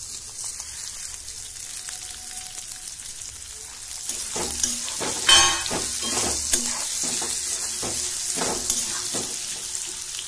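Okra (bhindi) with a little turmeric frying in a pan for masala bhindi, a steady close sizzle with crackling bursts and spoon stirring clatter, loud and continuous with no talk.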